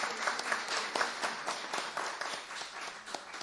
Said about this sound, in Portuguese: uma salva de palmas a vocês pela presença